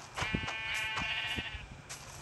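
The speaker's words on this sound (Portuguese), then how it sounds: "E eu vou matar umas ovelhas aqui" Sheep in the Minecraft video game bleat several times in short overlapping calls over a low background, some nearer and some fainter, with no talk.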